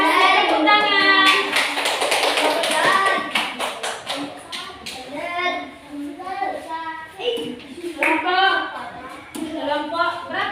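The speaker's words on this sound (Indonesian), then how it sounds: "Tepuk tangan." Children talk and chatter nearby in a classroom while scattered hand claps break out after a group presentation, sharp uneven bursts of clapping mixed in with the young voices.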